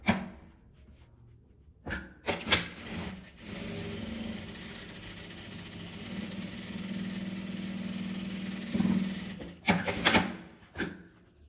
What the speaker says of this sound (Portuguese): Agora eu vou pregar os 2 lados.